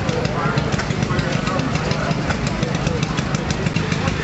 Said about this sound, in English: Over here we have all the old engines running away.